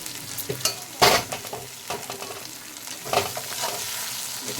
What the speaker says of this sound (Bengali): একটু গ্যাসটা জোরে দিয়ে ভালো করে ভেজে নেব